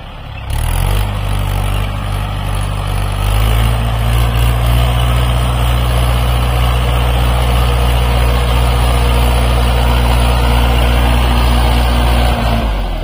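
A tractor fitted with small tyres for sugarcane ploughing runs close by, its engine a loud, steady low diesel drone that settles into an even idle-like rumble for the whole stretch.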